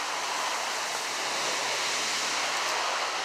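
Rain floodwater rushes steadily past, a dense, loud, unbroken roar of flowing water close by with no voices.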